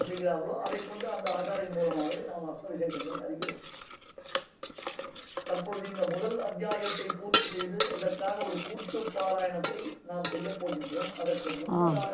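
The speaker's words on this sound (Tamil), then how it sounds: "இப்படி கலக்கி விடணும் நல்லா கலந்து கொடுத்துக்கணும்" Koozh batter is stirred in a pot, with a utensil scraping and clinking against the metal in steady rounds. Someone talks over the stirring at close range.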